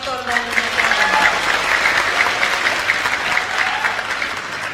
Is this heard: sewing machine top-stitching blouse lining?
no